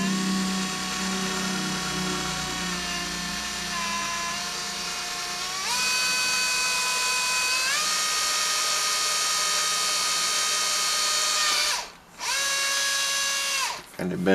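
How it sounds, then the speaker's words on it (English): An electric drill whines steadily, its pitch stepping up as the speed changes, briefly cutting out twice near the end before spinning up again. "Stick this in our drill."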